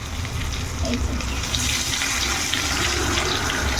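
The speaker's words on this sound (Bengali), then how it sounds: "তেল গরম হয়ে গেছে এখন কই মাছগুলোকে দিয়ে দিচ্ছি" Koi fish (climbing perch) fry in hot oil that was salted beforehand, a loud, dense, continuous sizzling hiss heard up close and steady for several seconds, with no talking over it.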